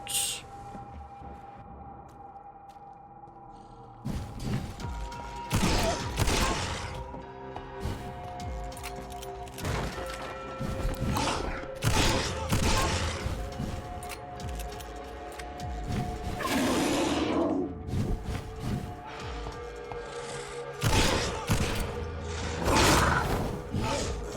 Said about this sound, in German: Abgesägte Schrotflinte, habe ich noch genügend Schuss mit.